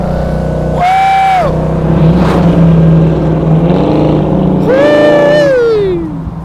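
Supercharged 1969 Chevrolet Camaro RS/SS LSX pro-touring convertible driving up close, the loud V8 revving hard through two strong rising pulls with a steady rumbling drone between them, engine alone with no talk.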